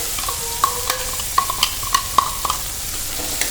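Chopped onion, ginger, garlic and green chili sizzling and frying in a pan over medium flame, with intermittent sharp stirring clinks of a utensil against the pan.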